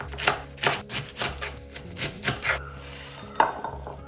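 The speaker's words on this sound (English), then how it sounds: "I've got my salad, and I'm just going to chop it up." A knife chops salad leaves, likely cabbage, on a board beside a family barbecue, a run of close, crisp, irregular strikes and thuds landing about twice a second.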